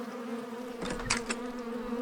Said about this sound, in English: I think I see the wasp.